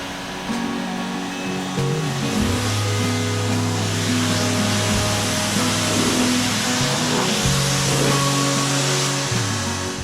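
A steady hiss of water spray rinses a Corvette, running continuously for the whole stretch with a low hum underneath and no talking.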